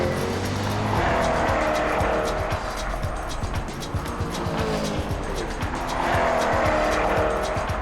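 A race car runs hard on a circuit, its engine roaring steadily and close as tires squeal and skid through corners, the rising and falling whine continuing without a break.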